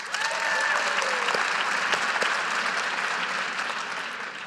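An audience at a keynote in Edmonton, Canada claps, a dense, steady wash of applause that holds loud throughout and tapers slightly at the end, with a faint voice briefly audible within it.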